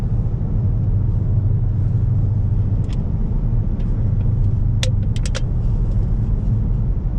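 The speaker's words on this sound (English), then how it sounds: "Cold start, you already know." A Dodge Charger R/T engine at cold start gives a steady, loud low rumble throughout, with a few brief high clicks or ticks partway through and no one talking.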